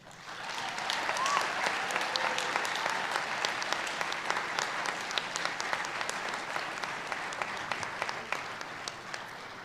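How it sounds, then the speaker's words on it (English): Steady, dense applause from a commencement crowd honoring graduates' parents, sustained and fairly loud throughout with sharp individual claps standing out, no talk. "round of applause."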